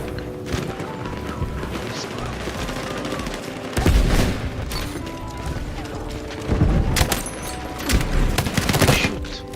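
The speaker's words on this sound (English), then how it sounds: "Somebody shot me, shotgun." Shotgun blasts and rapid gunfire from a shooter video game, with dense continuous shooting and several louder bursts, while voices talk over the action.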